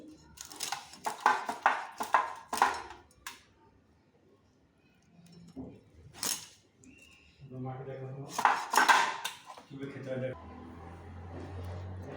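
A knife cuts through a hilsa fish on a kitchen surface in a run of sharp clicks and scrapes up close, pauses, then returns with more cutting while a person talks over it.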